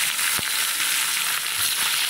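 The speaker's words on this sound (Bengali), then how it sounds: "কড়াইতে আমি সর্ষের তেল দিয়ে দিলাম," Mustard oil sizzles steadily in a kadai, a close, even, hissing crackle with a couple of faint pops, heard alone without voices.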